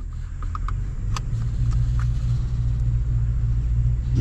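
A vehicle's wheels spin in wet mud, making a steady low rumble of engine and tires that grows slightly louder, with a few faint clicks and no speech.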